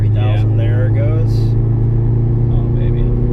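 A Subaru WRX turbo engine pulls hard under acceleration, a loud, steady low drone filling the cabin, with brief speech near the start.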